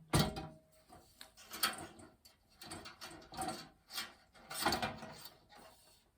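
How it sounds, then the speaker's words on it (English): The side door on a large gold lantern is worked open with a series of small clicks, knocks and rattling latch noises. They come in several separate bursts and are close and fairly quiet. "large lantern, and the side door opening."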